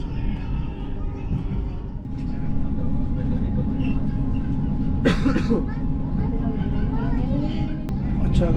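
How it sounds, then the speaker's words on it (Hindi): Indonesia's high-speed bullet train from Jakarta to Bandung pulls away with a steady low interior rumble and faint rattles, while a passenger talks over it. "ट्रेन चल पड़ी है और बहुत बिल्कुल टाइम पे चली है"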